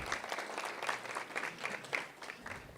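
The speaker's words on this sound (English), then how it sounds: "Round of applause" Audience applause after a business pitch presentation at an Enactus Ventures pitch event, a short burst of steady clapping from a modest crowd heard at moderate distance.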